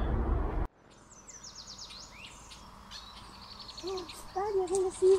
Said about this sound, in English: No, that's a bird.